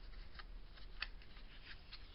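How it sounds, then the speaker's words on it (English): Scissors pushing a ribbon through the hole of a handmade gift tag, heard as a soft run of faint scraping and rustling with one slightly sharper snip-like tick midway, quiet and close, no talking. "The scissor pushed it right through."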